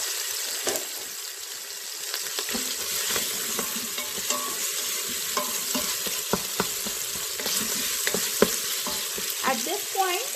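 Tomatoes frying with ginger garlic paste for potato meat curry, a continuous close sizzle broken by scattered clicks and scrapes of stirring, growing busier near the end.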